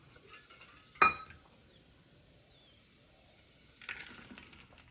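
Roasted pumpkin and melon seeds tipped into a bowl with one bright rattling clatter, then a softer, scattered patter of seeds settling a few seconds later, no voices.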